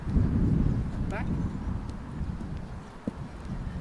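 Friesian horse Apollo steps backward under a rider outdoors in strong wind, giving a few soft hoof thuds beneath heavy wind rumble and the rider's spoken cues.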